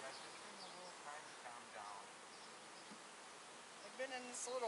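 Honey bees buzzing outdoors while being installed into a new hive after days in a shipping box, a thin steady drone mixed with wind noise, with a brief voice near the end.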